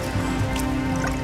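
Tap water runs steadily over hands being washed in a Kerala home kitchen, a close, continuous splashing trickle with small drips throughout.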